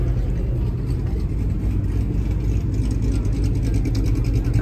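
A supercharged 5.0 car engine pulls out of a gas station, a loud steady rumble close by with people talking over it.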